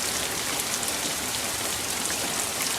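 Steady, dense storm rain pours down in an even hiss with scattered drops, heard close and without any voices.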